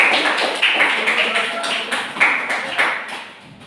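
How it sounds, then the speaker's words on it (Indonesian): A class of students breaks into brisk applause, a burst of overlapping claps close by that thins out toward the end, with a voice briefly heard over it. "Tepuk tangan untuk semuanya."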